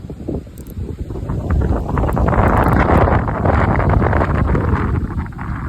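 Strong wind buffets the microphone outdoors at a fishing spot, a continuous heavy roaring rumble that swells and stays loud throughout.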